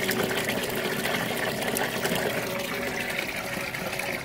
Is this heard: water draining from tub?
yes